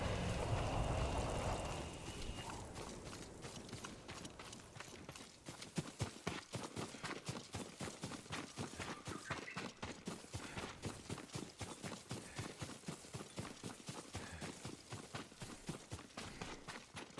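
Horse hooves in Ghost of Tsushima, a steady run of clip-clop beats starting after a short rustling intro and continuing evenly and fairly close, with no talk over it.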